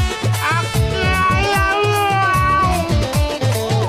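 Repeated drawn-out cat-like meows ride over a steady rhythmic beat, loud and continuous throughout.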